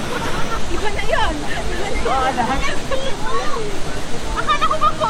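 Sprite Falls in Majayjay, Laguna pours in a steady, broad rush of water, while several people chatter and call out nearby over the roar.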